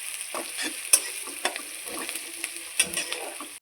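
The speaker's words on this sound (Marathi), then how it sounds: "कांदा तेलात भाजून घ्यायचा." Onion frying in a couple of spoons of oil with mustard seeds in a home kitchen, a soft steady sizzle broken by light clicks and scrapes of a spoon stirring, close and fairly quiet, no talking.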